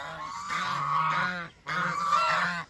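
Geese honk loudly and close by in two bursts of harsh, nasal calls separated by a brief pause, several birds overlapping in a noisy clamour with no talk.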